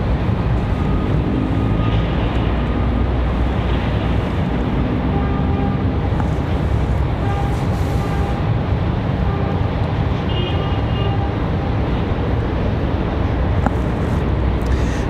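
Steady broadband jet roar from a Delta airliner moving on the ground at Raleigh Durham airport, a continuous distant rumble that holds at one level without clear rises or breaks.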